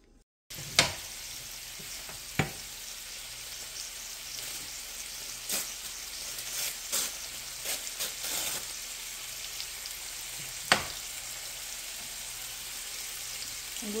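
Sausage frying flat in a pan, a steady soft sizzle with occasional sharp pops and crackles, faint and close, with no talking.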